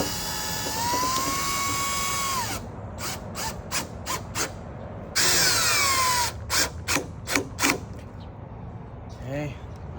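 A power drill or driver runs in long whining bursts while tightening a 7/16 bolt on an aluminum storefront door frame, with a series of short stuttering pulses between the longer runs.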